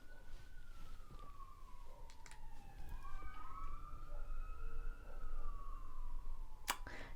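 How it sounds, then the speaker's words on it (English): An ambulance siren wails and sweeps in pitch as it passes nearby, rising and falling over steady traffic rumble before fading. "Do you hear that dang ambulance?"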